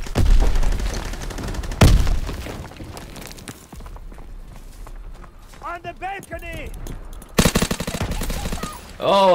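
Submachine gun fire in the Call of Duty WW2 beta, with rapid bursts of gunfire at the start and again near the end, among other game effects while someone talks over much of it.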